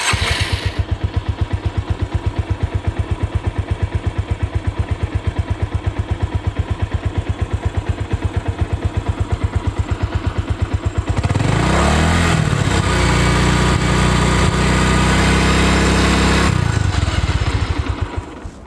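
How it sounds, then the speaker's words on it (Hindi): A used car's engine runs steadily at idle with a fast, even mechanical clatter, then grows louder and rougher for several seconds as if revved, before settling back near the end. "आपको सबसे ज़रूरी चेक करना है कि इंजन का जो आवाज़ है वो कैसा है"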